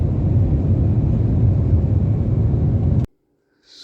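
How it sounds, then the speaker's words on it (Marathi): A parked airliner ready for boarding gives off a steady, loud broadband roar, likely engine or APU noise, for about three seconds before it cuts off abruptly into near silence, with a faint hiss at the very end. "आपलं विमान रेडी झालेलं आहे."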